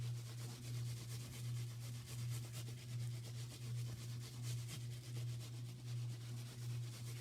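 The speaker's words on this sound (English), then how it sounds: "I'm holding my bubble wrap on one corner just to make sure that it doesn't move around while I'm rubbing" Steady back-and-forth rubbing of wet felt through bubble wrap, with a soft, even swishing rhythm and a constant low hum underneath, close and quiet.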